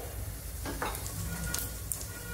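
Cumin seeds sizzle in a spoonful of hot oil in a wok, giving a steady close crackling hiss with a few brighter pops, with no talking.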